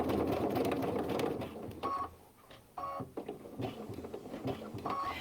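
A sewing machine stitching striped fabric along a marked line, heard as a loud whirring run of rapid needle strokes, then a stop and several short buzzing bursts separated by pauses.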